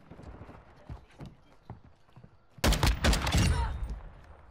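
Gunfire in Call of Duty: faint clicks and thuds give way to a loud, close burst of rapid shots that rings on for over a second, with no speech.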